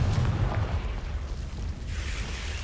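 Confringo spell from Hogwarts Legacy detonating as a fiery blast, a loud booming burst at the start trailing off into a rough, rumbling decay over a couple of seconds.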